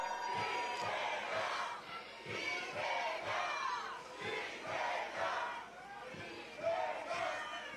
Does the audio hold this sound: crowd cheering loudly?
yes